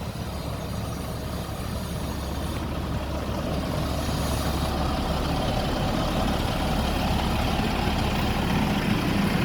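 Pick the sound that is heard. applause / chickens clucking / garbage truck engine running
garbage truck engine running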